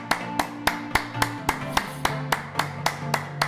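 Applause from the audience at a wealth masterclass event, heard as steady, evenly spaced claps at a moderate level with a faint background hum, no talking.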